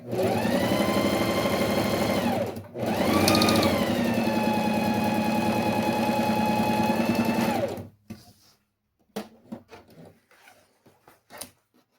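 An electric sewing machine runs a second seam on a small fabric zip pouch: two sustained whirring bursts with a brief pause between, the motor pitch rising and falling at each start and stop, followed by quiet handling clicks and rustles.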